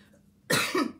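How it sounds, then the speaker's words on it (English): A single short, loud throat clearing up close, a rough burst split into two quick pushes after a moment of quiet. "And I clear my throat."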